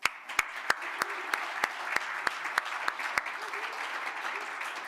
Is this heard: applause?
yes